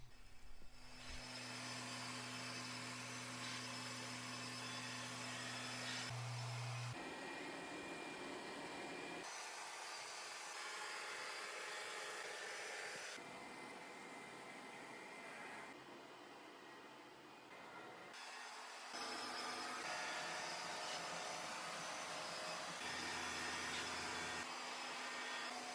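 A Lefant M5 Pro robot vacuum and mop runs with a steady whirring suction drone, shifting pitch and power as it switches modes, with a brief lower hum at the start; close and continuous, no talking.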